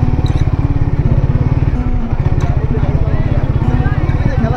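A group of Suzuki GSX-R motorcycles rumbles past up close with a loud, throbbing engine pulse, and a voice exclaims over it.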